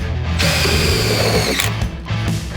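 A power drill drives a screw to fix an aluminium insert inside a PVC fence post, a loud steady whirring buzz that runs nearly continuously, dips briefly, then picks up again in short bursts.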